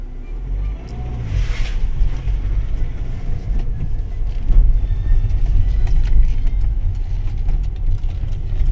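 Engine of a Nissan X-Trail 2.2 dCi 4x4 diesel heard from inside the cabin while driving, a steady low rumble that swells as the throttle is pressed, loud and continuous with faint road noise.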